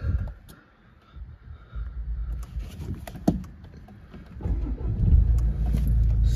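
A Jaguar XE 2.0 diesel car engine cranks and catches, then settles into a low, steady idle nearby, preceded by faint clicks and door sounds.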